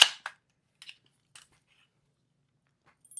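Rifle with a Deadair Nomad 30 suppressor being checked clear of magazine and chamber: a few sharp, close metallic clicks and clacks spaced apart by quiet gaps, with no talk.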